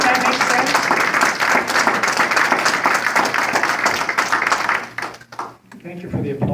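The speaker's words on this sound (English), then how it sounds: "Thank you for the applause" Crowd applause at a congressional campaign kickoff rally, a dense sustained roar of clapping with cheering voices that fades out near the end before a speaker resumes.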